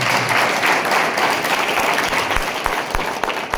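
Loud, dense applause from an audience fills the whole stretch, steady and close, honouring R.K. Public School and the block education office at the opening of a science exhibition.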